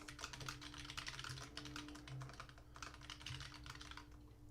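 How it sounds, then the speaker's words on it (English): Fast, steady keyboard typing with quick clicky keystrokes, close by and fairly quiet, with brief pauses between bursts. "Let me know if my typing is really loud on my mic here"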